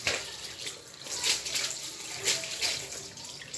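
Kilishi dried meat being washed in water, with steady splashing and trickling like a running tap, swelling in short pulses as the pieces are rinsed nearby.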